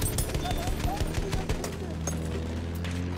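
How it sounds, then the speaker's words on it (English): Anti-aircraft gun fire in Battlefield 1 on the Caporetto map, rapid rhythmic bursts thudding steadily under a dense wash of distant battlefield noise and voices. "Oh, AA is helping us."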